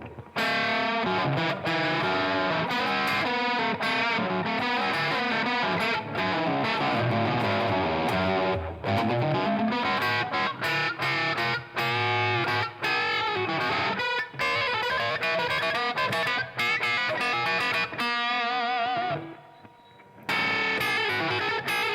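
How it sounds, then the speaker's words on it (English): Heavily distorted electric guitar through a DOD Gonkulator ring modulator set to full, a harsh, metallic tone, chords and notes played continuously and loud, with one brief drop near the end. "I've put the ring mod on full, so we can hear exactly what it sounds like"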